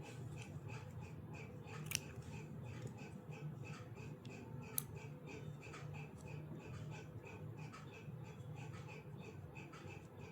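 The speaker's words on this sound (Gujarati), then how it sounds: "દોરો કટ કરી લેશું." Scissors snipping crochet thread, a couple of faint, sharp clicks against a quiet room background.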